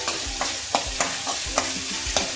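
Green chillies cut into pieces fry in hot oil with cumin, a steady close sizzle punctuated by regular scraping strokes of a spoon stirring the pan.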